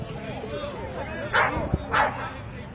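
Pitbull fighting a cat, with a couple of sharp dog yelps and barks at close range amid a noisy scuffle, and people shouting nearby.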